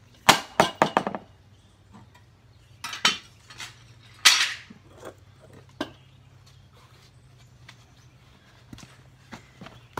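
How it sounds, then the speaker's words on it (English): A weight drops onto sandy plywood covered with one layer of fiberglass cloth and epoxy resin, giving a sharp crack followed by quick bounces, then scattered knocks and handling sounds in a quiet room. "So the 12 inch did not penetrate, it bounced, it cracked the back of the plywood slightly, but it withstood the hit."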